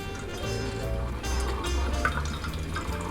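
A Keurig coffee maker brews a strong 10-ounce cup, a continuous close liquid stream and gurgle with a low machine hum, steady for the whole stretch without speech.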